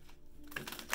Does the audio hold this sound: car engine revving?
no